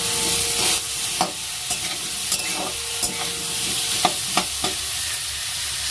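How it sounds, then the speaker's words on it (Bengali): Potatoes and onions frying together in a pan, a loud continuous sizzle and hiss broken by repeated scraping stirs and utensil taps. "এখানে আলুটা ভাজা হচ্ছে"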